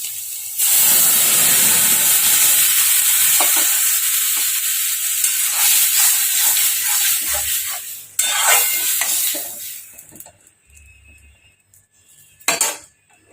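Masoor lentils tipped into a pan of browned fried eggs burst into a loud hissing sizzle that slowly settles, followed by stirring scrapes and spoon clinks against the pan as the bubbling eases.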